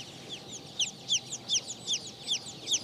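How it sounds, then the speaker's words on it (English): A Blue Silkie Bantam chicken, the tufted, bearded breed, gives soft, rhythmic high-pitched clucks and chirps at a steady pace, fairly faint and close with no talking. "This is the Blue Silkie Bantam."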